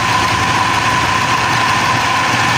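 A running air conditioner compressor, from a unit whose fault kept it from cycling off automatically, gives a steady loud hum with a constant tone and vibration throughout, and no one is speaking.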